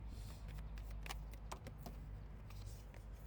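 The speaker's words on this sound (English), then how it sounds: "I still want to shuffle, and I'm actually going to do a real shuffle here" A tarot deck is shuffled by hand, giving a steady soft riffling and rustling of cards with scattered crisp flicks. It sounds close but quiet and comes without any talking.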